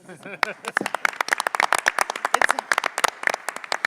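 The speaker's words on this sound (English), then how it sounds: "Yes, that deserves an applause." Presentation audience breaks into a round of applause, dense overlapping claps building quickly and sustained at moderate loudness, with a brief voice at the very start.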